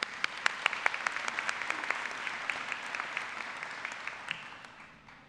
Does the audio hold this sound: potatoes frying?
no